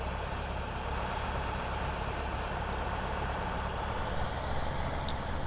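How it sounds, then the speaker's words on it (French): Combine harvester engine running in a farming video game, a steady low diesel drone and rumble that holds at a constant loud level, with no voices. "La moissonneuse est en train de tout vider."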